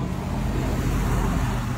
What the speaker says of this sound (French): La circulation est fluide.